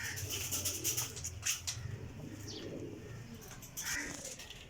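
Breeder pigeons coo softly in a loft, with low throaty coos mixed with scattered chirps and faint rustles. The sound is quiet and close, with no speech.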